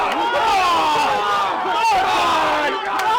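Wrestling crowd at a women's wrestling event roars and chants in support of wrestler Love Doug, a continuous loud wall of voices with rising and falling shouts.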